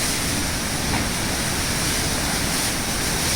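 Heavy rain pours in a strong windstorm, making a constant loud wash of noise like a waterfall that stays even throughout, close and with no talking.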